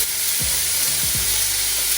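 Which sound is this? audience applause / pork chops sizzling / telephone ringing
pork chops sizzling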